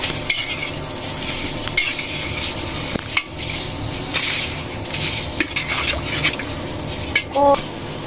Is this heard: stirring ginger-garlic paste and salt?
yes